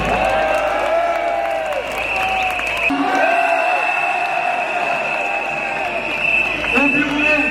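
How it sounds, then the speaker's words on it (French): A large crowd at a street demonstration applauds continuously, a dense steady wash of clapping with some cheering, while a voice over a loudspeaker carries on above it. "Et je vous demande de les applaudir s'il vous plaît."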